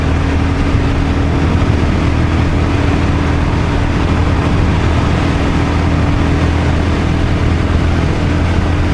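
A Royal Enfield Guerrilla 450 motorcycle engine runs close by with the throttle barely cracked, a loud, steady low drone holding even throughout with no voices.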